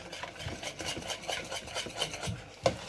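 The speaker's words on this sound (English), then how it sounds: "Obviously keep stirring it, otherwise it's just going to get stuck to the bottom of the saucepan" A spoon stirring cheese sauce in a saucepan: soft, quiet, rhythmic scraping and rubbing strokes against the pan bottom, repeating steadily, with a slightly sharper knock near the end.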